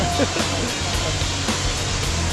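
Waterfall at Dong Phaya Yen in Saraburi, Thailand, a steady broadband rush of falling water that stays loud and even throughout, with no breaks or talk.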